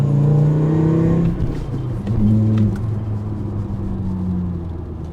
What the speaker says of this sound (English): It has more of that 5-cylinder rumble.